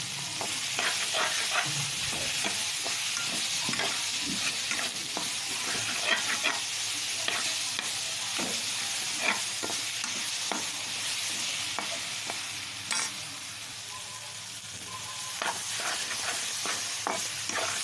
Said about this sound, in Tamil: இப்போ கத்திரிக்காய் சேர்த்துக்கலாம். அதையும் சேர்த்து நல்லா வதக்கலாம்.